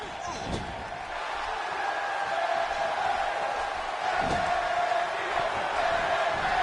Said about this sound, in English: As the crowd of Anaheim is getting behind Bayley